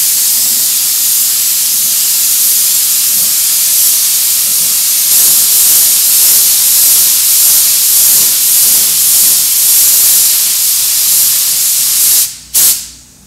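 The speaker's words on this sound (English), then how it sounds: "I've got charcoal silver inside the gun. I'm going to lay me down a few coats of that" A spray gun lays down charcoal silver metallic paint on a car in a steady, loud, continuous hiss with faint pulsing, cutting off abruptly near the end.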